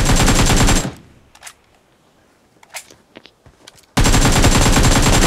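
Loud automatic gunfire in PUBG: a dense burst, then a near-silent pause with a few faint clicks and taps, then another heavy burst.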